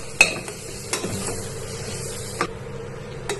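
Peas, potato and rajma being stirred into frying masala in a pan, with a low sizzle under a few sharp spoon-against-pan knocks spaced irregularly; no voices.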